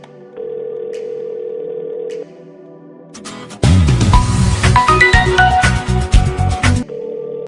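A mobile phone call to a brother abroad: a steady ringback tone plays, gives way to a loud, busy musical caller tune, then the ringback tone returns briefly at the end.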